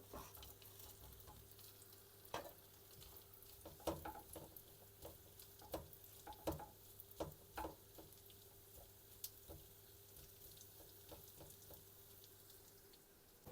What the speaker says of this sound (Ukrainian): Починаю смажити ковбаску.